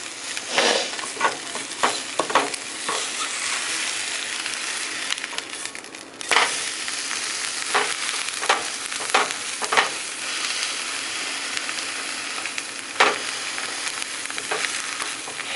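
Omelet sizzling steadily in a frying pan while a utensil stirs and scrapes it, with repeated sharp scraping clicks over the continuous hiss, close and fairly loud.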